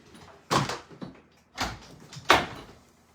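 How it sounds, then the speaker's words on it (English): A bedroom door is shut at home during a call, with three distinct thumps and rattles spaced about a second apart, close and fairly loud, with a TV faintly audible beforehand. "I need to shut my door so I can't hear the TV."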